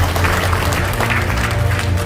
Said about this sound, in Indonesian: Ya, tepuk tangan buat Bapak Ibu semua.